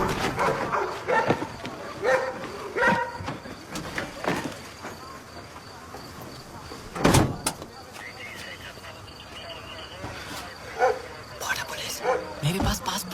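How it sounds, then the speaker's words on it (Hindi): Several dogs bark in short excited bursts around a stopped vehicle, with yips and a whimper, loud and close at moments, under hurried shouting voices and a door or window sound. "कुत्ते। कैसे कुत्ते?"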